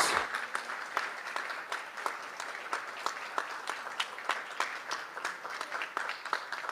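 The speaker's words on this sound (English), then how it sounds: "A round of applause, please." Audience clapping at a presidential bill signing in the Philippines, with individual claps distinct and fairly quiet, forming a steady, slightly uneven patter throughout.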